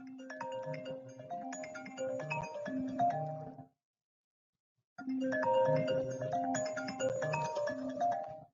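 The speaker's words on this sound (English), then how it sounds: "May I answer this phone?" A mobile phone ringtone plays a melodic electronic tune in two loud bursts separated by a short silence, with no talking over it.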